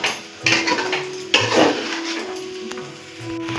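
Meat and rice are stirred in a metal pot for home-style biryani, with close metallic scraping and clanks of a spoon against the pot and a faint hum underneath.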